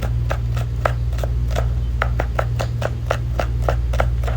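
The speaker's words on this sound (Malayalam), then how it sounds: "ഞാൻ ഇവിടെ നീളത്തിലാണ് അരിയുന്നത് രണ്ട് വലിയ സവാളയാണ് ഇവിടെ ഉപയോഗിക്കുന്നത്" Knife slicing two large onions lengthwise on a cutting board, a steady series of crisp, close chops at a regular quick rhythm over a constant low hum, with no talk.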